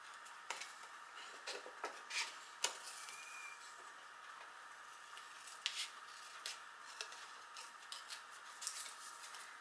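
Scissors snip through card during crafting, giving a series of quiet, irregular crisp cuts and clicks in a hushed room.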